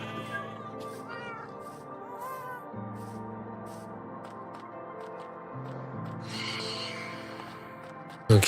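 A cat in the Minecraft video game meows several times in short bursts over steady in-game music. The sounds are close and clear.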